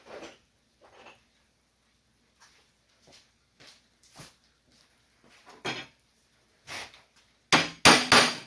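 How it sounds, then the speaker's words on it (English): Light tapping hammer strikes on 1951 Chevy body sheet metal, scattered and soft at first, then a few heavier close blows at the end; no voices. "a little bit more hammer work here"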